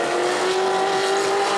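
Pro late model race car driven by Parker Chase on a qualifying lap at New Smyrna, a loud, steady engine roar held at high revs throughout with no voices over it.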